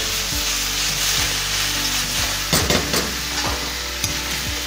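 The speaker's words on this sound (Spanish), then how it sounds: "Poco a poco va soltando su humedad los champiñones, y eso va también a ayudar a que se cocine rápido" Mushrooms cooking in their own released juices in a pan produce a constant close sizzle, with a handful of scraping stir strokes and a brief louder clatter midway.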